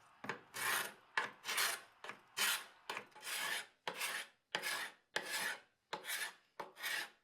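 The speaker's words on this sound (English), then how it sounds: "evenly sand your stairs with each grit sequence" Wooden stairs being sanded with strokes in a regular back-and-forth rhythm, each stroke a loud, close, raspy scrape separated by brief pauses.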